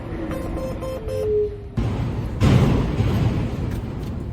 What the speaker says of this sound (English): Sorry for the noise. It's really windy today.